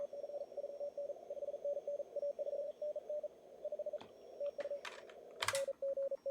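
Morse code from a ham radio station during the CQ World Wide DX CW 2020 contest, a single keyed tone beeping in quick dots and dashes over faint static, with a few sharp clicks near the end.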